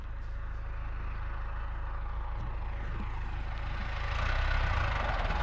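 Old all-gear tractor with no shuttle shift running steadily on a hay-fetching trip, a continuous low engine drone that swells slightly louder near the end, with no talk over it.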